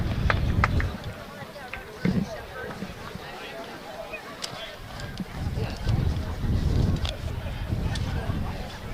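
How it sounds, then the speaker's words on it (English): Gusty wind outdoors at an evening high school rugby game, rumbling and buffeting the microphone in surges throughout, with voices and distant game noise underneath. "Wind picking up here once again. Been kind of gusty on and off tonight."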